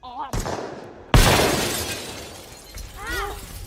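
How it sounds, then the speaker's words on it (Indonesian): Glass shatters suddenly with a sharp crash, shards scattering and tinkling away, followed by a brief vocal cry near the end. "kaca jendela pecah berantakan"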